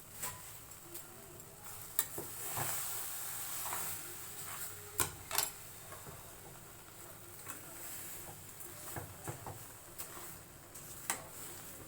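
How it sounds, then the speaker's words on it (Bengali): Palm fruit pulp and sugar are stirred in a pan over low heat: a faint, gentle sizzle with scattered light scraping and tapping of the spoon, sounding quiet and close. "এরপর অল্প একটু চিনি দিয়ে তালটা নাড়তে থাকবো।"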